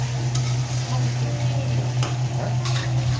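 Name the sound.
water being poured into pot of vegetables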